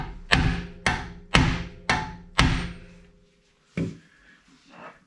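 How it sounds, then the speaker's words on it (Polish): Hammer blows driven through a socket against a BMW ABS/ESP joint during repair: five hard metallic strikes in steady rhythm, close and loud with ringing decay, then a pause and one more heavier hit followed by faint handling noise. "biorę, słuchajcie, taki oto młoteczek i przez tą oto nasadeczkę muszę, słuchajcie, przyrżnąć"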